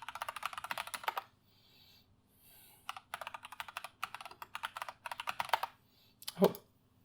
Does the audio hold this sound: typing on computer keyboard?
yes